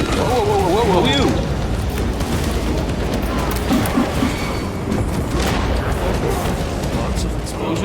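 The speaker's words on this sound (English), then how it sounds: "Lots of explosions." Dense, continuous explosions and booming gunfire from Warhammer 40K Space Marine 2 roar loudly throughout, layered over rumbling combat noise with a brief voice near the start.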